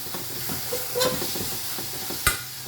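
Steady sizzling from a hot pan with scraping stirring strokes and a couple of sharper clinks, close and continuous.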